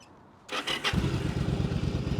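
A Yamaha Drag Star 1100 Classic motorcycle with 12,000 miles cranks briefly with the starter, then its V-twin catches and settles into a close, loud, lumpy idle.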